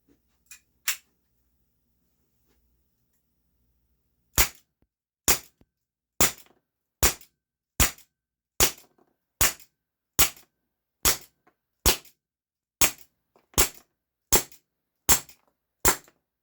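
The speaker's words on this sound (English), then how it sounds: "We would be using steel BBs first, and then use some ASG blaster BBs, the plastic ones." An Umarex Walther PPS BB pistol firing steel BBs from about five yards outdoors: a couple of sharp cracks, a pause, then a steady string of about fourteen crisp snapping shots under a second apart, close and clean against near silence.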